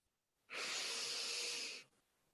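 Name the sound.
deep breath in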